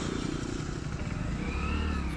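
A 2025 Hero Passion Plus 100cc motorcycle engine idling, a smooth low steady hum that runs close and even throughout, with no talk.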